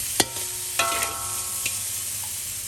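Pork belly frying in a pan for a coconut curry, a steady sizzle under a few sharp scrapes and clinks of a utensil against the pan, close and moderately loud.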